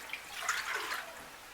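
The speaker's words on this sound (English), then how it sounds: "So we put some water in a pot," Water poured into a cooking pot to boil groundnuts for ndole, a soft, quiet splashing and trickling that swells briefly and then settles, heard alone.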